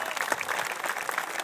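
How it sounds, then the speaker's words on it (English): A short burst of steady applause from an audience at a Walk for the Cure charity event, dense and even throughout with no break. "You deserve a round of applause."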